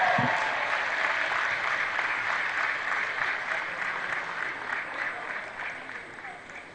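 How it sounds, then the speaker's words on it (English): Conference audience at an expanded management retreat breaks into sustained applause, a dense, steady clapping wash that slowly tapers off over several seconds. "let's keep the applause going for Professor Jerry Gana."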